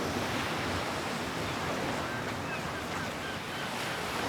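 A steady wash of ocean surf rolls on without pause on a beach in Saint Kitts and Nevis, a broad, even roar of waves with no voices.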